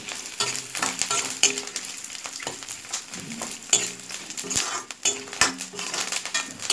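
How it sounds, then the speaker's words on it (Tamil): Toor dal and tamarind sautéing in a pan with curry leaves, a soft steady sizzle broken by repeated scraping and clinking of a spatula against the metal pan, fairly quiet and close, with no talking. "நல்லா வதக்கிக்கணும்."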